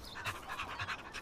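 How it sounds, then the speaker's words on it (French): A dog panting close by, quick rhythmic breaths repeating steadily with no talking. "Oh là, un chien?"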